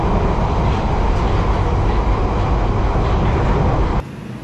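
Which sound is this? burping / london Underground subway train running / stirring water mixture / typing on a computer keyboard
london Underground subway train running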